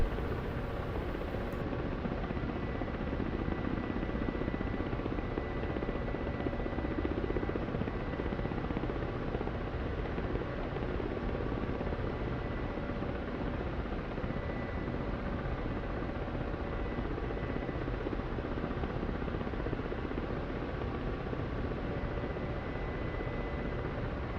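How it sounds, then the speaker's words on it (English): A Black Shark helicopter's steady rotor drone and turbine whine in the DCS flight simulator, Syria map over Haifa, hold constant and fairly loud throughout, with no voices. "certainly a lot of fun to fly these helicopters in this map"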